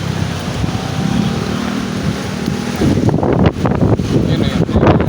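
Strong Habagat monsoon wind roars into the microphone outside Okada Manila, a loud constant rushing buffet that surges heavier partway through, with no clear talk over it.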